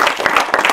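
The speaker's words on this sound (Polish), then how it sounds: "Wielkie brawa!" Brief audience applause at an anniversary celebration in Poland: a close, fairly loud burst of many hands clapping in a quick, uneven patter, lasting under a second.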